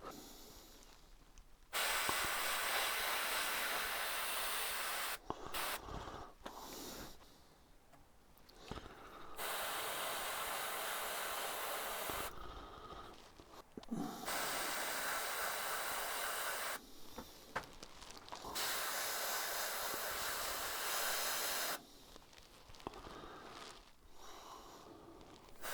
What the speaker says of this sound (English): having the air compressor on as low a pressure as possible. So I've got this at 15 psi.